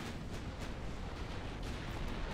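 In the naval battle game Ultimate Admiral Dreadnoughts, a torpedo strikes a ship with a dense, rumbling explosive roar that stays loud and sustained across the whole moment, with a few sharper bursts within it.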